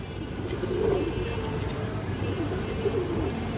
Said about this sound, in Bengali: দর্শক সুপার কোয়ালিটির একটা সবজি গিরিবাস মাদি কবুতর আছে